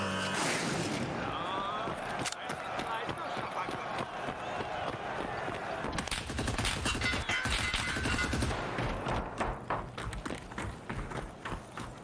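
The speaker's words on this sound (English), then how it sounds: "Already heard the suppressing fire on the left side there." Suppressing gunfire in a competitive multiplayer shooter match on the Airpit map, heard as rapid bursts of shots building toward the second half, mixed with running footsteps and other game sounds at a fairly loud, steady level.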